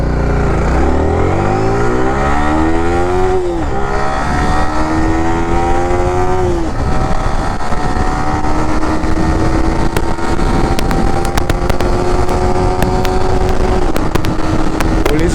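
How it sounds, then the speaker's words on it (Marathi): A Yamaha R15M motorcycle on an open bypass road screams loud and close, its engine pitch climbing steeply through several gear changes toward top speed, with a steady rush of wind throughout and no talking. "तर आता आपण टेस्ट करू gear top speed of R15M"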